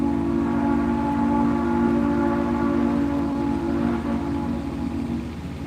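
Southern Railway steam locomotive 630 sounds a loud, steady chime whistle while approaching, with the rumble of the train underneath and no talk over it.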